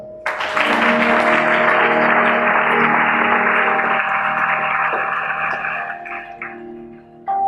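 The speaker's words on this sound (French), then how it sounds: "Acclamons ça." A church congregation applauds during a prophetic sermon, a sustained wash of clapping that swells in quickly and fades gradually over several seconds, with a steady organ-like tone beneath.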